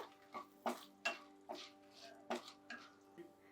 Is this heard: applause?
no